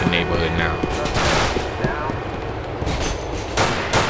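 Gunfire in GTA IV, during a fight with a neighborhood gang and police, crackles as loud, continuous bursts of shots under a dense wash of street noise, with voices talking over it.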